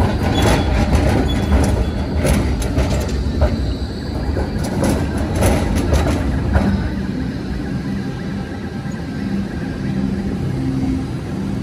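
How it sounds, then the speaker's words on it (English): A Melbourne tram rumbles past on a city street, a loud, steady rolling roar with rail clatter that swells and holds close by throughout. "Imagine the power of the tram."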